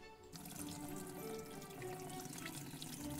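Water being fetched in the farming game Everdream Valley, a steady rush of running, splashing water like a filling tap, starting after a brief pause and continuing evenly at close range.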